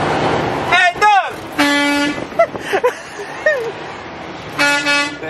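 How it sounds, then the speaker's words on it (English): Car horn honking from a vehicle in traffic, several short toots and a longer blast at close range, with people talking and shouting around them. "honking."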